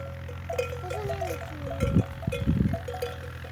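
Sheep and lambs grazing in a pasture, with scattered bleats rising over a steady outdoor background and a cluster of louder, closer calls toward the end.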